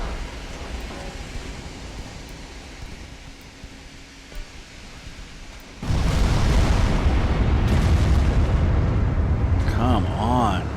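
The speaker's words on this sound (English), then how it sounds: "my 2-inch guns are going nuts on these transports" Naval gunfire and explosions in the warship game Ultimate Admiral: Dreadnoughts, a rumbling low roar that jumps into a loud, sustained barrage of booms partway through, with someone talking over it.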